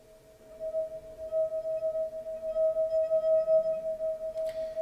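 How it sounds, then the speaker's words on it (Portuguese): A wine glass rings steadily at its resonant frequency, producing a single sustained pure tone with faint overtones. The tone swells slightly in loudness, and a brief soft clink sounds near the end. "esse som que a gente está ouvindo, essa nota musical que a gente está ouvindo, é a frequência de ressonância dessa taça."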